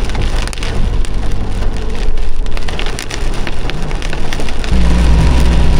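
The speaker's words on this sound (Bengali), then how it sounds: "দেখতে দেখতেই বেশ জোরে বৃষ্টি নেমে গেছে" Heavy rain pours down steadily during a drive on a hilly mountain road on the route from Chandigarh to Manali, making a dense, continuous patter, and a low engine hum comes in near the end.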